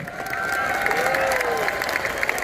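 Brief applause from an assembled audience at the Governor of Bali's year-end speech, honoring arak Bali and endek Bali, moderately loud and mixed with crowd murmur and a faint voice.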